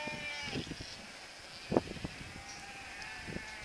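Dorper ewe lambs bleat in a farm setting, with a few scattered calls, one louder near bleat standing out among fainter ones, over soft background noise.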